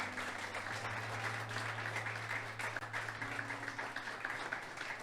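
Applause from a church congregation during an evangelical sermon, a steady dense wash of clapping held at an even level for several seconds with a low sustained organ-like hum beneath.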